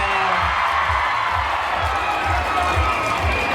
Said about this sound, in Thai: ขอเสียงปรบมือหน่อย